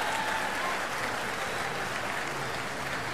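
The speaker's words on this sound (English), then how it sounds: "Another big round of applause for those open finalists" Audience applause at the Golden Shears sheep shearing competition, a steady wash of many hands clapping from a large crowd, moderately distant and continuous for a few seconds.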